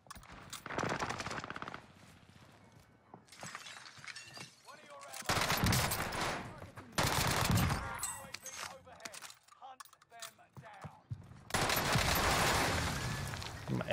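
Rapid SMG bursts in a Warzone match, several loud fast-firing volleys separated by short pauses, with a voice talking in between.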